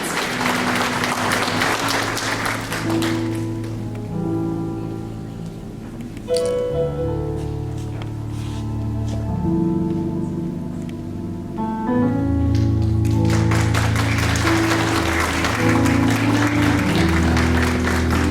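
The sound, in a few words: audience applause for the debutante queen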